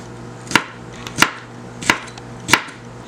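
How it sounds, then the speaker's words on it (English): A kitchen knife slices through fresh okra on a cutting board in four sharp, evenly spaced chops, close and crisp with no talking. "And then we're gonna slice our okras, okay?"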